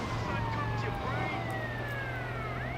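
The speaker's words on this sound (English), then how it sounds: "I'll keep the siren on for a little bit, just so you can get the gist of how it works." A fire truck siren in the video game GTA Vice City Stories wails in rising and falling sweeps over a steady low engine drone. It stays loud and continuous throughout.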